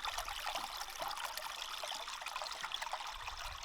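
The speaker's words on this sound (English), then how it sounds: "Right here in the front yard is a nice little year-round creek." Steady trickling water with continuous babbling and splashing, a small year-round creek flowing close by in the woods with no voices.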